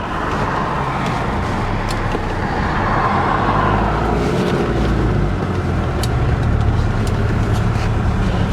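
A 1983 Mercedes 240D diesel straining under full throttle, a steady, loud low drone of engine and road noise that holds constant without much rise in pitch.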